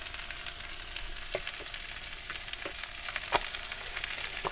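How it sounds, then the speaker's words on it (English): Fajita vegetables sauté over medium heat in oil and chicken juices in a small van kitchen, making a soft, quiet sizzle with occasional sharp spatula taps against the pan. "Let them get good and sauteed over a medium, and I'm letting them cook in that oil and juice from the chicken"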